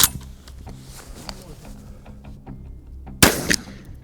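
A single sharp, loud shotgun blast of bound buckshot at a paper target 50 metres away near the end, following a stretch of low background noise and faint handling sounds, with a short echoing tail.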